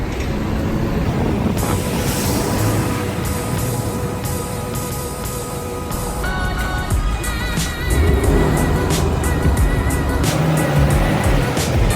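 A 1995 Bayside Blue Nissan Skyline R33 GTR driving, its engine a steady loud roar throughout with a stronger surge in the second half, no talk over it.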